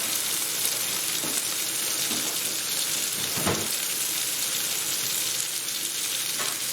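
Potato-starch coated beef strips frying for crispy chili beef, a steady loud sizzle with bright hissing crackle and a few brief bursts of spattering, close and continuous with no talking.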